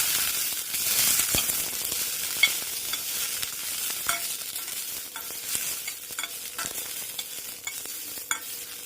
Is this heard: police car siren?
no